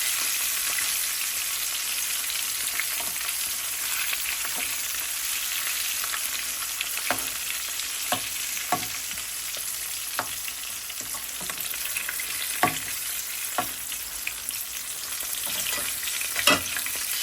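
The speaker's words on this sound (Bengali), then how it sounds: "আর সানফ্লাওয়ার অয়েল দিয়ে ফ্রাই করতেছি।" A whole hilsa fish fries in a generous amount of sunflower oil, a continuous loud hiss with scattered crisp pops and spatters throughout, no voices present.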